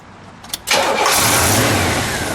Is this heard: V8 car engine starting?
yes